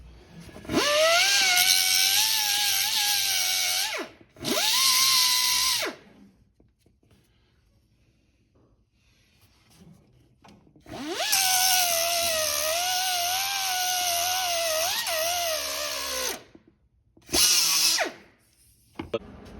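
Power drill boring out a broken bolt from the alternator mount on a 1969 Buick Skylark, loud whining bursts of drilling separated by quiet pauses, no voices.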